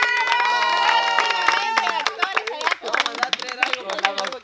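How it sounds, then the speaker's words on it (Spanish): A small audience at a Spanish-language contest show claps and cheers for the actors. Scattered claps rise under lively voices and overlapping chatter. "Un aplauso para todos los actores de video."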